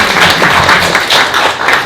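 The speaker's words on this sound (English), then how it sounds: "So that's a big applause, I think, for everyone," Applause from an audience at a community meeting on right to repair, a short burst of loud, close clapping lasting under two seconds.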